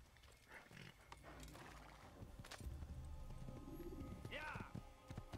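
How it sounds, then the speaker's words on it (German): Horse hooves clip-clop in the Assassin's Creed video game, the steady footfalls mixed with a whinny and game ambience while someone talks over them. "Pferd, komm her."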